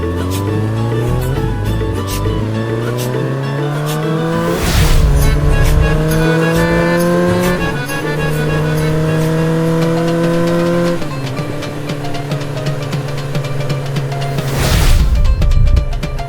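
A car drives off in a village, its engine climbing through gear changes in rising harmonic sweeps, with loud bursts of roar and rumble as it pulls away. Voices talk throughout.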